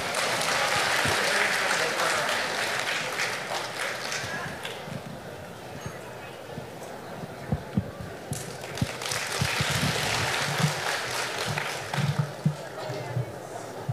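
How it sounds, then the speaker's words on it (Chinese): An audience claps at a crosstalk comedy show aboard a cruise ship. The applause is steady and moderately loud, then thins into scattered claps as performers begin speaking. "我们一上来啊觉乎这个掌声啊不老太热烈的是吧"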